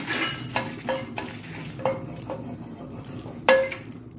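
Coriander seeds dry-roasting in a pan for a Mangalore-style wild mango curry, heard as a few scraping stirs and light clinks of a spoon against the pan over a faint sizzle, with one sharper clink near the end.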